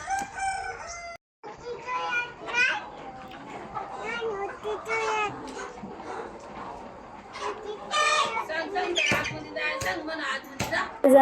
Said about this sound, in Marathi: आत्ता चाललो आहे कोंबड्यांच्या शेडमध्ये कोंबड्यांना खायला टाकण्यासाठी.